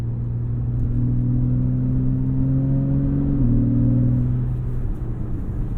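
A 2014 Porsche 911 Carrera S engine holds a steady, throaty drone, its intake whir and exhaust rumble close and sustained, with a brief pitch shift midway.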